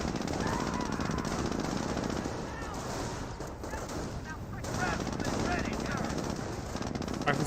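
Rifle and machine gun fire from a World War II real-time strategy battle in Company of Heroes, a steady rattling clatter of automatic bursts mixed with rifle shots, continuous and moderately loud beneath a caster's commentary.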